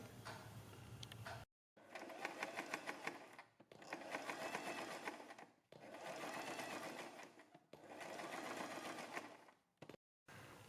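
A sewing machine stitching along the edge of a printed kurti's neck strip, running in four steady whirring bursts of rapid needle clatter separated by short pauses, close and alone.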